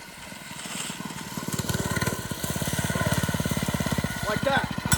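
A motorcycle engine revving hard during a group ride with wheelies, its rapid pulsing exhaust building from a lower idle into a loud sustained roar with brief throttle changes near the end.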